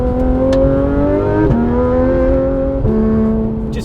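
A Porsche GT3 RS engine with an IPE exhaust revving loud and close, a high tone climbing through the gears with two quick upshifts that each briefly drop the pitch.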